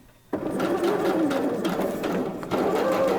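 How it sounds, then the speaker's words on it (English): A new domestic sewing machine stitches steadily with the needle lowered, a close, continuous mechanical whirr that starts abruptly after a brief quiet and holds an even speed with a small dip near the end. "Drop the needle down and then just do a bit of sewing."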